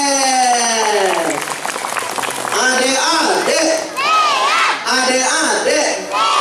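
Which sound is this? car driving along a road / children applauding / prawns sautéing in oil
children applauding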